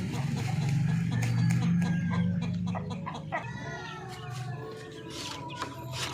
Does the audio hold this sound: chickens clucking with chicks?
yes